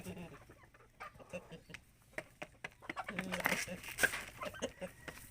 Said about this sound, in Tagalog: Ayan yung aming mga alagang manok.